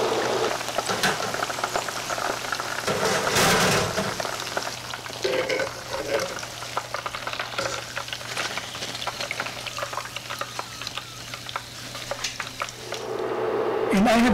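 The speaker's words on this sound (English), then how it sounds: "this is the second frying that I'm doing for my chicken breast here" Steady, crackling sizzle of chicken breast in its second frying in hot oil in a wok, with occasional stirring scrapes, close and continuous with no talking.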